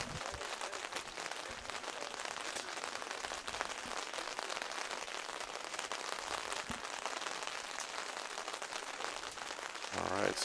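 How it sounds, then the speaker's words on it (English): Steady rain pattering on a lawn bowling green during a Canadian championship match, a dense, even hiss of drops lasting throughout, with faint background noise and no clear speech. "Rain's coming down again."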